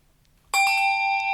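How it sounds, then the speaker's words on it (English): A single handbell is struck once, giving a bright, clear ring that sustains and slowly fades close by. "can I see if I can time my bell with your bell?"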